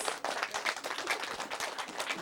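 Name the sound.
audience applause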